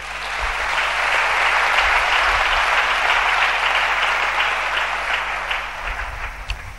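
A congregation at a French-language church sermon on Daniel's seventy weeks bursts into sustained, dense applause that holds steady for several seconds before tapering slightly, with no voices over it.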